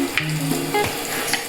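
A Maharashtrian tadka for dadpe pohe sizzles steadily in hot oil as turmeric and asafoetida go in, a close, moderately loud crackle with a few brief clinks and no talk.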